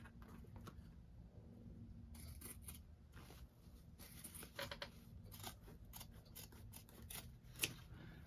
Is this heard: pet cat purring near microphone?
no